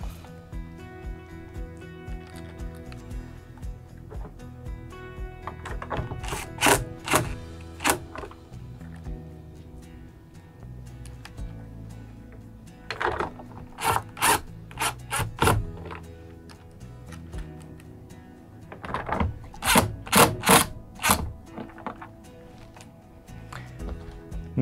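Screws are driven into an air conditioner shroud on a Coleman-Mach rooftop unit, heard as three clusters of sharp mechanical clicks and whirring bursts with quieter handling noise between, close by.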